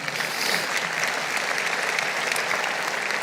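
A church congregation applauds during a Spanish-language sermon, a dense, even wash of clapping that holds steady throughout without a voice on top.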